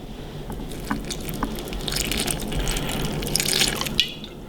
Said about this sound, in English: we're gonna pour until we have 3 ounces of our Kahlua.